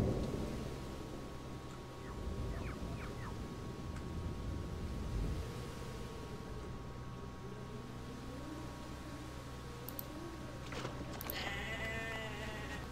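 Low rolling rumble of a thunderstorm in the Jurassic Park: Operation Genesis video game, a long continuous roar with faint rain-like texture, joined later by scattered sharp game effects and animal calls.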